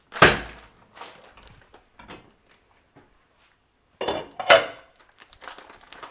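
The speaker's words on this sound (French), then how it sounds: "on jette la pâte dans l'eau bouillante" Dry spaghetti dropped into a pot of boiling water for spaghetti aglio olio peperoncino, giving two clattering bursts, one at the start and another a few seconds later, with faint knocks in between and no talk.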